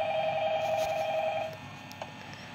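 Telephone ringing in the video game Five Nights at Freddy's, a steady electronic ring that stops about midway, followed by quiet game ambience and a faint click.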